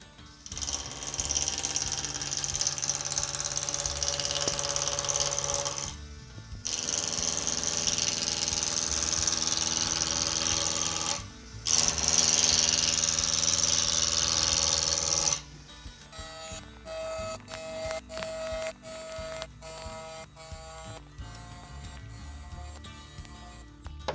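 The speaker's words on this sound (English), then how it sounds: "let's get on with turning this piece of ash. So I'm going to use my spindle roughing gouge" Wood lathe turning a piece of ash under a spindle roughing gouge: a steady, loud machine drone with rough cutting noise in three long passes broken by short pauses, then choppier, intermittent cutting toward the end.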